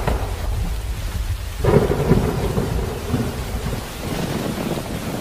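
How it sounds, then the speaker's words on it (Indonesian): Heavy rain pours steadily on Mount Gede while a deep roll of thunder swells and rumbles for several seconds, loud and enveloping, with no voices over it. "Lah, kok hujan?"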